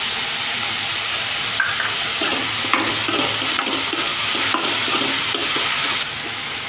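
Egg bhurji with green chili and coriander fries in a pan, a steady close sizzle and hiss broken by scraping stirs and a few knocks of the spoon, with no talking.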